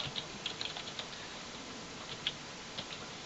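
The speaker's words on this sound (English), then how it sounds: "I'm now going to type in some gobbledygook" Computer keyboard typing in light, irregular taps and clicks over a steady background hiss, close and moderately faint, no talk.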